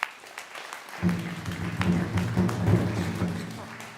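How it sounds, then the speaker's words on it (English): An audience at a Native graduation honoring ceremony breaks into sustained applause for the graduates and honorees, a dense wash of clapping starting after a moment of quiet and carrying on steadily, with a voice faintly audible beneath it. "We'll do a big round of applause now for all of our graduates and honorees"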